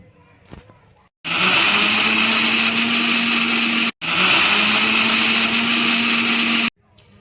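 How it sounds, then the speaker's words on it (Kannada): An electric kitchen mixer grinds onion, green chilli and tomato into a paste for tomato bath, a loud steady whine running in two long bursts with a brief stop between them, after a short quiet start. "ಈ ಥರ ನುಣ್ಣಗೆ ರುಬ್ಕೊಳಂಬ್ರಿ. ಈಗ ನಾನು ರುಬ್ಬಿದ್ದೀನಿ ನೋಡ್ರಿ."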